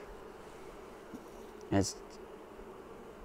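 Honey bees from an opened Flow Hive during a hive split, a soft steady hum throughout with one brief louder buzz as a bee passes close, and a faint word spoken.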